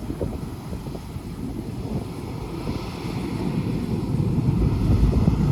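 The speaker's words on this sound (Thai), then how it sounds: "ลมแรงดีจังนะครับ" Strong wind gusting across an open rice field during harvest of rice variety 5451, a steady broadband rush that builds gradually louder, with no voices.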